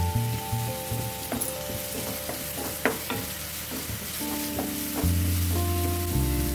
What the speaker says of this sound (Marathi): ह्याच्यामध्ये घालून घेतो बारीक चॉप करून घेतलेला कांदा